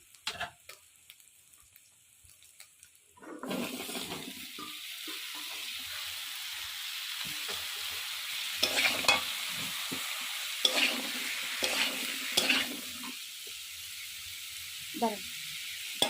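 Ridge gourd drops into a pan of well-browned spices and fries with a steady broadband sizzle, starting abruptly after a quiet moment and carrying on with a few louder scraping stirs and clatters.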